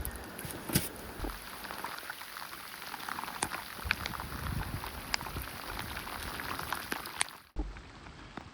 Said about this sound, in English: we interrupt these proceedings with rain that's supposed to have stopped this morning